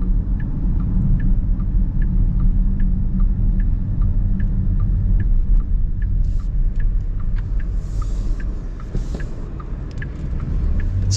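A 2024 Porsche Panamera with a V6 accelerates in sport mode, heard from inside as a loud, continuous low engine and road rumble with faint ticking above it, no talking.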